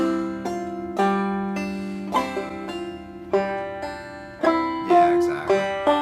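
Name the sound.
banjo pull-off and brush strum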